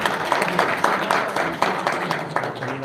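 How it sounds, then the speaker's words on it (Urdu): An audience at a religious gathering gives steady applause welcoming Allama Saad Rizvi, with many hands clapping continuously and moderately loud throughout, no speech over it. "آپ کی بھرپور تالیوں میں"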